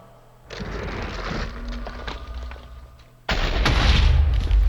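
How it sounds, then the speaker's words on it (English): An energy anomaly in the Minecraft Drehmal map erupts in a loud, broad explosive roar, a rumbling burst followed by an even heavier, louder blast that keeps roaring to the end. "I knew it was gonna explode."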